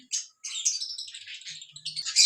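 A small parrot chatters and chirps in quick, bright bursts, fairly close, with a few brief pauses between calls.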